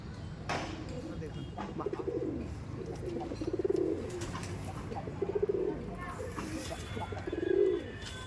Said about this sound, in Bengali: original লাম্বাড়ি pigeons original Andhra লাম্বাড়ি